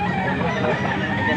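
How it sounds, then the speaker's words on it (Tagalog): Chickens cluck at a busy Philippine poultry market sale in Pampanga, short nearby bird calls mixed into a dense, constant bed of crowd noise and chatter. "Magandang manok oh."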